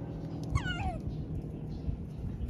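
A cat gives a short wavering meow in the middle, near and clear over a busy market-day background hum with low rumbles and scattered clatter.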